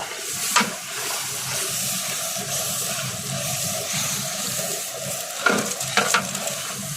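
Turmeric and spices roast in hot tempering oil for a langar-style white chickpea and paneer curry, giving a steady sizzle with stirring scrapes throughout and a couple of louder clatters near the start and end.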